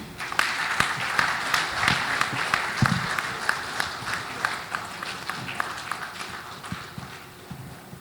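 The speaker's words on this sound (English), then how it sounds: "can we keep the clapping going?" An audience claps after a panel session, a fairly quiet, even stream of individual claps with a loose rhythm that continues steadily for several seconds in a reverberant room.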